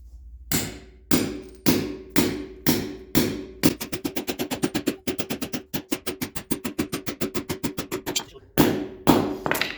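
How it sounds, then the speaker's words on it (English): A hammer pounds a part into place while a BendPak car lift is being installed, giving loud, close metallic blows that start slow and evenly spaced, speed into a rapid run, then slow again. "Pounding it in."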